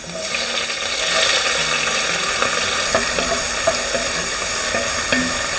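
Onions frying in hot mustard oil with cumin, cloves, bay leaf and other whole spices, a steady close sizzle with occasional crackles and spatula taps throughout.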